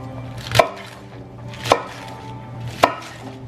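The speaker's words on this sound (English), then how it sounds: "And then I just cut them in bite-sized pieces," A knife chops cabbage into bite-sized pieces for vegan kimchi, giving three sharp, evenly spaced thuds on a cutting board about a second apart, close and clear with no talk.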